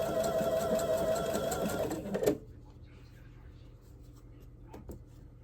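Home sewing machine stitching quilt block pieces together, a steady fast mechanical whir for about two seconds that stops abruptly, followed by quiet room tone with faint handling sounds.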